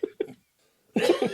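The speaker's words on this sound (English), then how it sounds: "I laughed so hard I was coughing on that one" Two quick, sharp coughs, a brief pause, then a burst of breathy laughter up close.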